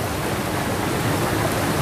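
Steady broadband rush of a waterfall heard on a woodland hike in Wales, a continuous, even wash of falling water filling the scene with no breaks.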